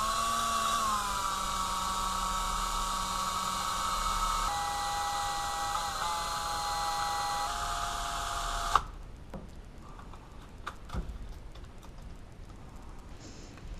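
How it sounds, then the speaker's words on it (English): Power drill spinning a steel screw held in its chuck while steel wool is run over the screw head, a steady loud whirring whine that suddenly cuts off, followed by a quieter rustle and faint clicks. "put half of the threads into the chuck of a drill, then run steel wool over the head while it's spinning"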